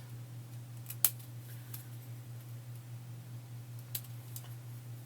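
Scissors snip paper to tidy a cut edge during paper crafting: a sharp close snip, then a few fainter cuts over a steady low hum, with no talking.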